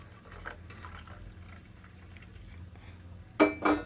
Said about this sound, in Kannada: ಎಷ್ಟು ಬಿಸಿ ನೀವು ಕುಡಿತೀರೋ ಅಷ್ಟು ಬಿಸಿ ನೀರು ಹಾಕ್ಕೊಳ್ಳಿ